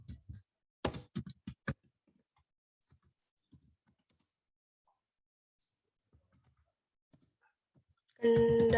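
Someone enters a vehicle purchase entry into accounting software on a computer keyboard, heard as a quick burst of close, crisp key clicks followed by sparse, faint taps in a quiet room before a sudden loud noise at the end.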